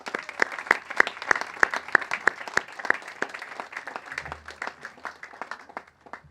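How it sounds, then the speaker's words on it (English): Applause at a 2019 Raritan Valley Community College graduation ceremony: a modest crowd claps in sharp, distinct strokes that thin out and fade toward the end, with a few individual claps standing out. "do a round of applause for all that you have achieved"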